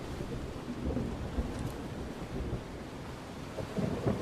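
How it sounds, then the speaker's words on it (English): A thunderstorm in the video game MotorSlice, with steady rain hiss under low rolling thunder rumbles, moderately quiet and continuous with no talk. "Oh, a storm?"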